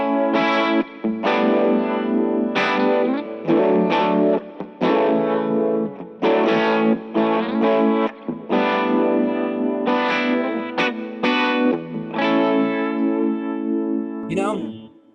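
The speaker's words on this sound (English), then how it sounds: "I just love the univibe sound in it, and the phaser sound is great as well" Electric guitar soaked in swirling univibe and phaser modulation, chords and licks played in phrased bursts with a gritty, throbbing, warbling tone.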